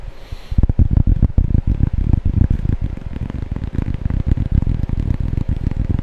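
Fingertips tap quickly and steadily on a coaster, a dense, close patter like rain that keeps going after a brief pause at the start.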